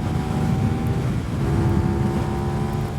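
A CFMOTO 450NK motorcycle accelerating at full throttle up to highway speed, heard as a loud, steady engine drone with strong wind rush buffeting the microphone throughout.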